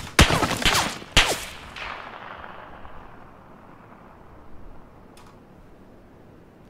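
Gunfire in PUBG, the battle-royale shooter with the Mk14 EBR sniper rifle: two sharp, loud cracks a second apart, each trailing off in a long echoing tail, then a fainter distant shot later amid quiet background noise.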